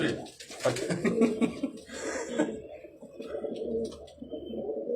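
Kasuri pigeons in a loft coo in low, throaty rolls, several birds close by, with a little background chatter and a brief laugh early on.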